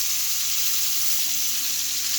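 Meatballs browning in hot oil give a steady, bright, close sizzle, constant and unbroken with no voices over it.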